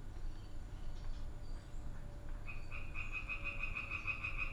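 Frogs croak at night: a low, steady chorus in the background, then from about halfway a nearer frog joins with a rapid, regular train of pulsing croaks that continues to the end.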